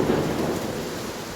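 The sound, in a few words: thunder with rain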